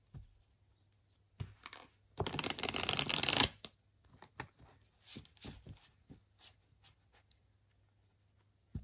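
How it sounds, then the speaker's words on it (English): Tarot cards riffle and slot together in a brief burst of close, crisp shuffling, followed by softer scattered taps and handling of the deck. "I'm really noticing how easily those cards just slot into place and shuffled with each other"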